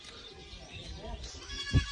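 A goat bleats on a village road on a hot day, one short, fairly loud cry near the end over steady background noise, with people talking throughout.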